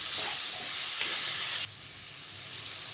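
Steady frying sizzle of tomato and spices sautéing in a hot pan, a bright continuous hiss with a brief stirring scrape, then settling slightly quieter; no voices.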